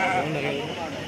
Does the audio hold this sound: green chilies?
no